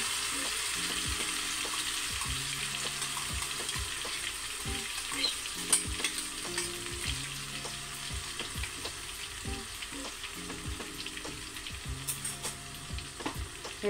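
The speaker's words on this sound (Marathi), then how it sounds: "तर हे असं मिक्स करून घेऊया जरा तेलामध्ये व्यवस्थित" Green masala paste for undhiyu sizzles in hot oil while a spoon scrapes and stirs it in the pan, with a steady crackle and regular knocks of the utensil against the vessel.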